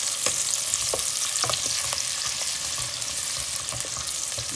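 Onions and ginger fry in a pan with a constant crackling sizzle, and a spoon or spatula stirs and taps in quick irregular bursts. No one speaks.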